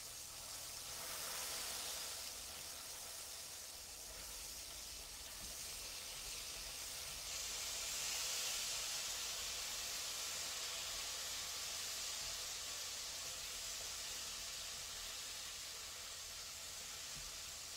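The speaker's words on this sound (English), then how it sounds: "this is our second time frying." Chicken wings frying in hot oil for a second time, a steady broadband sizzling hiss that swells slightly midway, continuous and close with no talking.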